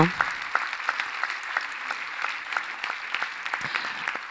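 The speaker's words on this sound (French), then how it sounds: "elle s'appelle Olivia Paul, donc on peut de suite l'applaudir." An audience at an awards ceremony claps continuously, a steady patter of many hands with a few sharper individual claps standing out.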